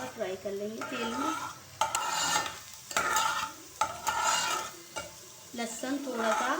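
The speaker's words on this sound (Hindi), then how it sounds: "अब हम इसमें बारीक कटा हुआ लहसुन पहले डालेंगे।" Finely chopped garlic frying in a spoonful of oil, a steady sizzle broken by repeated scraping and stirring of a spoon against the pan, close and fairly quiet, with no talking.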